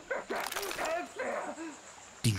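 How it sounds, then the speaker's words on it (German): A dog in the video game Far Cry 6 gives a run of short barks and yips over soft game ambience, ending with a sudden louder burst of sound. "Oh, da ist ja noch ein Hund."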